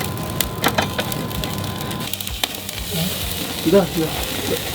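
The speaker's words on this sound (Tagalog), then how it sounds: "Then, i-grill na rin natin itong ating atay" Pork liver sizzling on a grill, a steady close crackle with sharp pops and wooden clacks, while people talk softly in the background.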